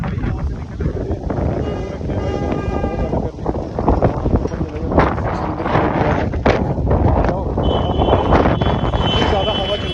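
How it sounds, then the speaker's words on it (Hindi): Strong wind buffets the microphone in loud, continuous rumbling gusts during a snowy motorbike ride, with faint engine tones and voices partly buried beneath the roar. "इतनी ज़्यादा हवा चल रही है ना भाई यहाँ पे"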